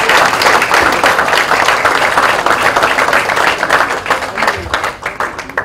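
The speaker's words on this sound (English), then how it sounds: "Ladies and gentlemen, big round of applause." An audience at an institute inauguration event applauds, with dense, loud, continuous clapping that runs the whole time and eases slightly toward the end.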